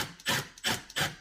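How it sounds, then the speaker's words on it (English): Three short, evenly spaced rasping strokes of a drill bit working into a piece of wood on a wooden bench, close and fairly quiet. "I pre-drill a hole in a piece of wood"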